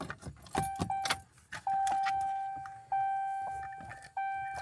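Keys jangle and turn in the ignition of a 2013-2018 Dodge Ram truck, switching it to accessory: metallic clinks up front, then a steady electronic chime repeating in long tones.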